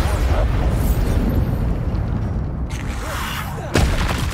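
Bombarda spell explosion in the video game Hogwarts Legacy, a loud rumbling blast with heavy low boom that sustains and decays, followed by a sharp second burst near the end.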